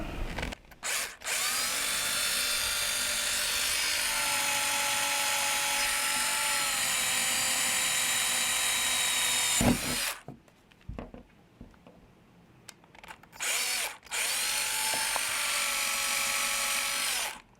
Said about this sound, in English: it's a lot easier to drill a small pilot hole